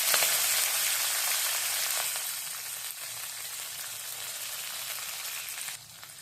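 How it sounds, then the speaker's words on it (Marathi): Onion fries in a pan with cumin and curry leaves, giving a steady, close sizzle and crackle that eases off slightly toward the end. "कांदा चांगला भाजून घ्यायचा"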